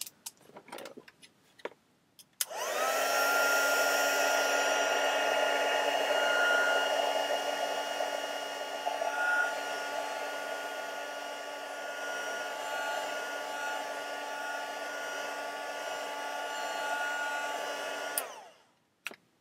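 A hair dryer blows on a damp journal page, switching on after a few small handling taps and running as a loud, steady whirring roar for about fifteen seconds before clicking off.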